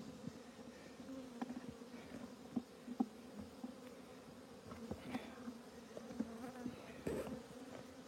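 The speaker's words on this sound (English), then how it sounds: "there's plenty of bees, but no honey." Bees buzz steadily around an outdoor hive, a continuous droning hum with individual insects passing close by in brief louder swells.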